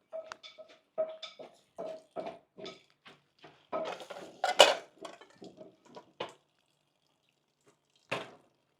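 Eggs are beaten in a bowl in a home kitchen, making a rapid series of light, clinking taps of utensil against dish that come in quick bursts, then pause, then a final clink.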